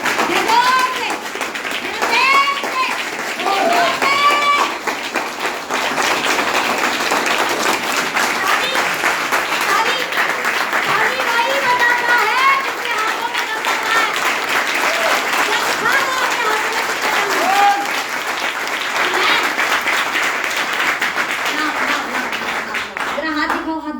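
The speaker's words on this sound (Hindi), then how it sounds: "पहले मैं चाहती हूँ कि शानदार ताली बजाओ" Sustained applause and clapping from an audience at a business seminar, filling the whole stretch at steady loudness, with voices and chatter mixed in underneath.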